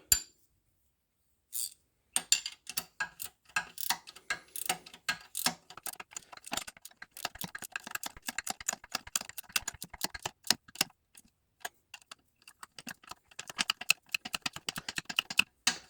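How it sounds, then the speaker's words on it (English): Ratchet wrench turning new grade 8 bolts while fixing a tractor PTO drive, heard as fast dense runs of sharp clicking bursts that start after a brief silence and continue steadily, close and fairly quiet, with no talking. "Ratchet wrench for the win."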